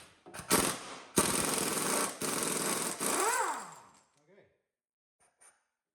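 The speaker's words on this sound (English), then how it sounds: "So I can use my impact gun here" An air impact gun works a nut off a Buick steering box, a loud, sustained rattling burst broken by brief pauses over about three seconds, then trailing off into quiet.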